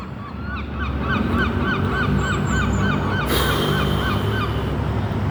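Geese honk repeatedly outdoors, a flock of overlapping calls coming in quick, uneven succession over a low background rumble, fairly close and loud.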